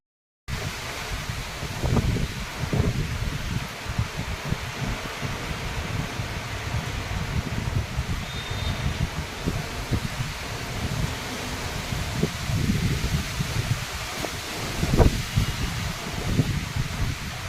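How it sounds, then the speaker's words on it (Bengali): Wind rushes through leaves in a continuous rustling wash, swelling in gusts and easing again, with no voices. "কি হাওয়া দিচ্ছে দেখো"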